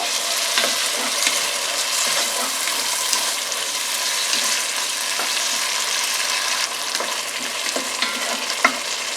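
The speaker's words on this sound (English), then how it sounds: "we're going to give this 2 more minutes for the tomatoes to reduce a little" Tomatoes with a teaspoon of lemon juice simmering and reducing in a pan for a squash and potato curry, a steady close sizzle and bubble with occasional stirring clinks and no talking.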